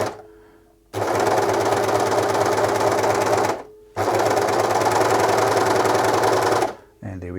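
Serger overlocker sewing machine chaining out thread: two long bursts of rapid, steady mechanical whirring, each about three seconds, separated by a brief pause, loud and close with a short restart at the end.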